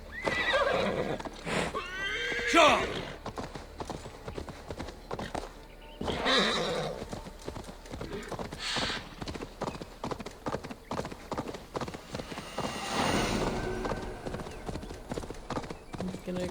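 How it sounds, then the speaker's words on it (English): In Assassin's Creed Valhalla, a horse whinnies loudly near the start, then rhythmic hoofbeats clip-clop steadily throughout, with a short shout over the galloping. "Oh, where did my horse disappear?"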